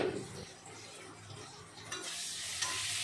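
Sliced potatoes fry with turmeric and salt in a pan, giving a steady close sizzle that swells louder toward the end, with a stir or clink near the start.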